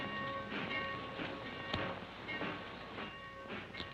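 A train rolls into a station with a rhythmic clatter of wheels on rail joints, a tonal hum and occasional sharp metallic knocks, heard at moderate distance.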